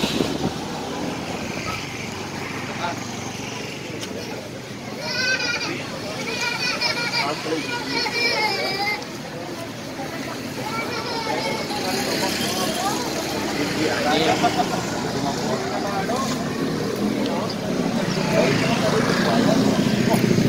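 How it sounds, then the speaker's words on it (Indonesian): Busy Hamadi market in Jayapura: a crowd of voices, children calling and chatting, with passing cars and trucks rumbling in the background, a dense steady ambience building slightly louder. "Situasi Pasar Hamadi."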